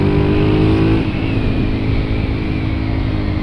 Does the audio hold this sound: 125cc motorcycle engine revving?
yes